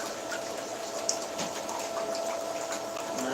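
Pump pushing water through a gold sluice at 800 GPH, a steady faint mechanical hum with trickling, splashing water running continuously.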